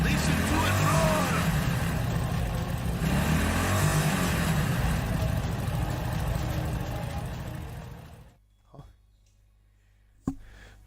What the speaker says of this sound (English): Hear the engine. Listen to it roar.